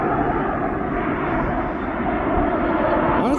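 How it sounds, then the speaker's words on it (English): A Ryanair airliner flying in from Cork roars steadily at East Midlands Airport, its loud, sustained engine rumble close and constant with no talk over it. "I think it's the Cork flight from Ireland with Ryanair."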